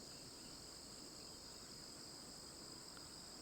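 Crickets chirp in the ambient soundscape of the colony game Rimworld, a steady, faint, continuous high buzzing of insects with no other sounds.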